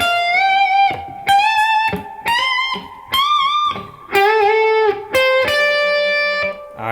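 Distorted electric guitar plays a solo phrase, a run of sustained bent and vibrato notes in short separated bursts, loud and alone.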